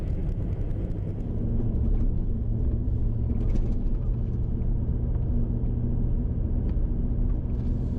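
A car rolls along a dirt highway between Tilpa and Wilcannia in outback Australia, giving a steady, loud low rumble of engine and tyres on gravel that carries on unbroken throughout.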